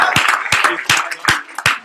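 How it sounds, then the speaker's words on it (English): An audience at a sales recognition gathering claps together in a steady rhythm, about six sharp, loud beats in under two seconds, close by and with no talk. "Let's give a round of applause."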